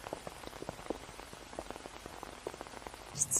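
Rain patters on an umbrella in soft, irregular taps over a faint hiss, fairly quiet and close, with a couple of brief higher clicks near the end.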